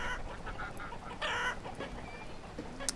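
Chickens clucking in the village-building game Banished, with repeated close clucks and short squawks over a low ambient bed, one brief louder burst in the middle, and no speech.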